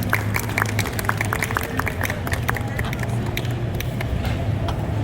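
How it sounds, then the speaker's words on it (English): A big anime convention crowd claps and cheers in a large hall at a closing ceremony, a steady wash of applause with sharp individual claps, mixed with crowd babble and an amplified voice. "Applaud yourselves for being here."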